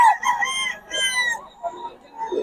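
Wet chickens at a Bocaue flea market, a rooster crowing loudly up close alongside clucks, with brief talk around them.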